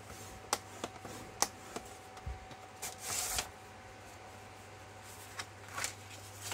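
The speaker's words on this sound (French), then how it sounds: "Donc je marque mes plis en zigzag, comme ceci." Paper being creased into zigzag folds for an album's pages, heard as a string of quiet, crisp snaps and rustles spaced irregularly over a low steady hum.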